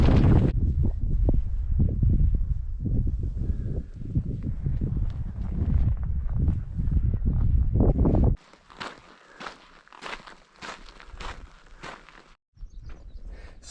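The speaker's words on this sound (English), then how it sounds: "I just wish this fucking wind would settle down" Strong wind buffets outdoors near a desert aqueduct on the Pacific Crest Trail, a loud, steady roar against the microphone for about eight seconds before dropping to a thinner breeze mixed with crunching footsteps.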